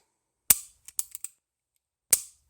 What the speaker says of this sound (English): when I pull the trigger, it is pretty smooth